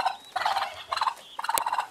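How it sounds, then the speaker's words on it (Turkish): Farmyard turkeys with young poults gobble in three quick, warbling bursts, close and loud, with short pauses between calls, in a village. "Evet arkadaşlar bunlar hindi."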